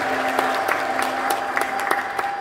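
A congregation at a church of St John the Baptist and St Mary claps steadily in praise, a dense continuous wash of hands with a sustained tone running beneath it.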